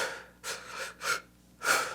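Someone demonstrates quick, intense breathing with four sharp, close breaths drawn at an uneven pace, each a short airy burst separated by brief quiet gaps.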